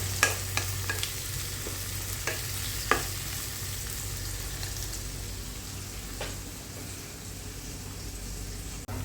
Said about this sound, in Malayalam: ഇനിയിപ്പോൾ അതിലേക്ക് വെളുത്തുള്ളി ഇഞ്ചിയും തക്കാളി പച്ചമുളക് ഇതെല്ലാം ഇട്ട് നന്നായിട്ടൊന്ന് ഇളക്കി കൊടുക്കും.